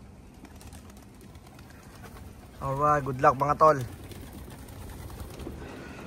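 Racing pigeons leave their loft at a Capistrano one-loft race, one close, loud coo rising in a short rhythmic burst between stretches of quiet background, while someone speaks.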